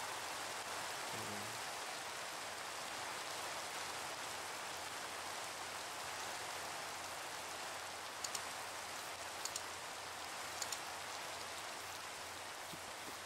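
Steady rain pours down in the Minecraft modpack All the Mods, a dense, even hiss throughout with a few faint ticks late on.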